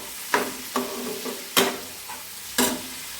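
A spice paste with onion is stirred and fried over medium heat in a pan. A steady sizzle runs throughout, and four distinct scraping strokes of the spoon come at roughly even intervals, close and fairly loud.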